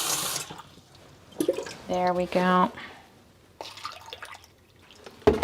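Water from a sink tap splashing and dripping in a short burst, then trickling in brief spurts, close by, with a person speaking briefly.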